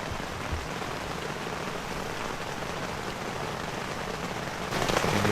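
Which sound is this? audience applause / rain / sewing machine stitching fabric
rain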